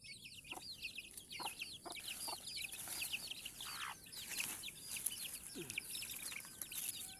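Faint, busy clucking from a free-range village hen mixed with rapid high peeping of her chicks, continuous and somewhat distant.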